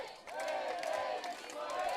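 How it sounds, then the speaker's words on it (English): At a European rugby sevens match between Israel and Poland, the crowd chants in a rhythmic, swelling roar heard from a distance, faint under the stadium ambience. "You can hear the crowd chanting for Israel"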